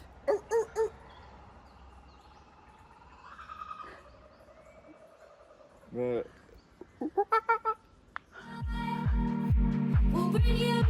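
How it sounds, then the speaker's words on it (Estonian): Scattered Australian bird calls and chirps along the Great Ocean Road, some quick and repeated, build into loud, raucous honking calls toward the end, fairly close. "Need on linnud. Need on Austraalia linnud."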